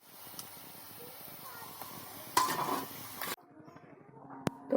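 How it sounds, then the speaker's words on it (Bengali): Fried ash gourd pieces are lifted from the pan onto a metal plate, giving light metallic clinks and scrapes over a soft hiss of frying, with one sharper clatter near the end. "এবারে আমি এই থালার মধ্যে আমি তুলে নেব।"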